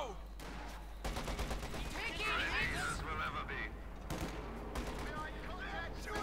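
A .50 caliber machine gun in Company of Heroes 2 rattles in rapid bursts among other battle noise, a voice talking over the gunfire.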